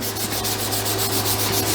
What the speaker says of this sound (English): Just sanding. You continue to sand